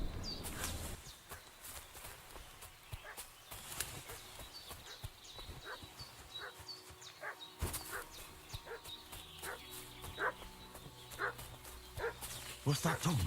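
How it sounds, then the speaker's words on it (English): A dog barks repeatedly in Kingdom Come Deliverance II, sharp barks scattered across the scene over horse hoof clip-clops and footsteps, with a voice speaking at times. "What's that dog making such a fuss about?"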